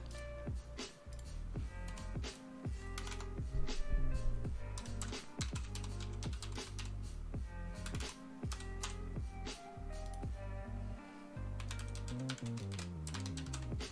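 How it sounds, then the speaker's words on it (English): Someone typing on a computer keyboard with one hand, a fairly quiet, irregular run of key clicks and taps over faint background music, with no talking. "typing with one hand, like..."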